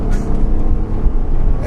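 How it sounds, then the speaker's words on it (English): A 2014 Honda Pilot AWD pulls away hard from a standstill, its engine a low, steady rumble with road and wind noise building, heard from inside the cabin. "What a majestic, speedy launch."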